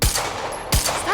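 Video game gunfire: two loud, close single shots about 0.7 seconds apart, each with a brief ringing tail.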